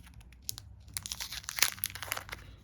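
Cardboard box packaging and plastic wrap around a board game expansion crinkling and crunching as cards and silica gel packets are lifted out, a near, continuous run of rustles with sharper crackles, no talking.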